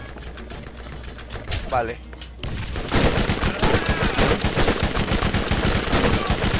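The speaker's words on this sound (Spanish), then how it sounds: "¿Quién me está disparando?" Rapid bursts of gunfire from the Borderlands video game come in loud, dense volleys after a quieter stretch, with a voice speaking briefly early on.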